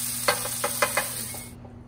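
Chicken meat frying in oil on a pan, a close steady sizzle under a constant hum, broken by several sharp scraping clicks as the pieces are stirred, ending abruptly after about a second and a half.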